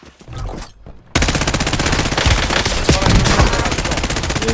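Machine-gun fire in the video game Warzone, a sudden loud sustained burst of rapid automatic shots following a brief quieter stretch with faint sounds.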